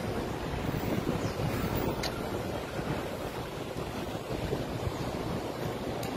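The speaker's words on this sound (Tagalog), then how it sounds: "Lakas ng hangin." Strong outdoor wind buffets the microphone continuously during a city walk, a loud steady rumble with gusty surges and no talking.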